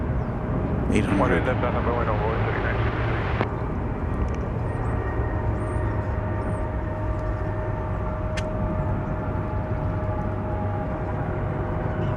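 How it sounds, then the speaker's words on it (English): A Boeing 737-800 airliner, flight 1294 to Austin, rumbles steadily at moderate distance at an airport, a low continuous engine drone with a faint whine, while birds chirp briefly early on. "This is flight 1294 going to Austin, Texas. A 737-800."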